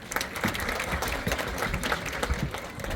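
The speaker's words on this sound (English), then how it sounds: "इनको जरा बहुत सारी तालियां देंगे आज big round applause." An audience applauding at a charity event, a short burst of close clapping from a crowd.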